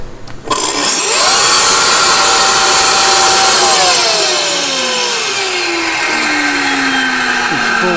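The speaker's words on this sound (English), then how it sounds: "You hear them turbos kick in." A twin-turbo prototype car engine at a car show revs hard and spools up, a loud sustained roar with rising and falling turbo whine that holds strong, then eases slightly while staying steady.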